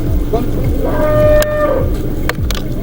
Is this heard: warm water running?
no